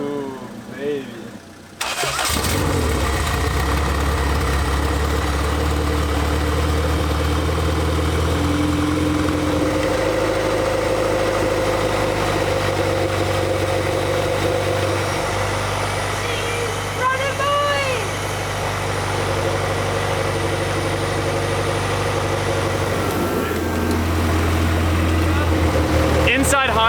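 A fully built LS VTEC engine in a Honda Civic EG hatch cranks, starts and settles into a loud, steady idle, with brief revving dips and voices talking over the running engine.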